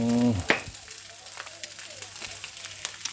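Pork fat sizzles loudly as drunken fried rice is stir-fried in a wok, with a sharp metallic clank early on, then scraping and crackling frying under brief talk.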